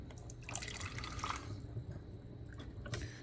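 Water trickling and dripping as it is rinsed through a GE Opal nugget ice machine during a deep clean, a steady close wet flow with small splashes and no talk.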